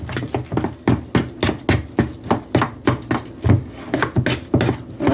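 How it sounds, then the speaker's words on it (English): Spices being stirred into sweet potato pie filling, a spoon knocking against the bowl in a steady series of roughly a dozen rhythmic thumps and taps, close and fairly loud. "And I'm stirring this in here."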